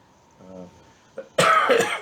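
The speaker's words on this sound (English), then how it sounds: "The coughing's getting on my nerves a bit" A soft throat sound is followed by one loud, harsh cough, close up.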